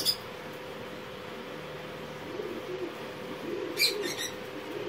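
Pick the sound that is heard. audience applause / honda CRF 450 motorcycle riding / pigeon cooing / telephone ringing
pigeon cooing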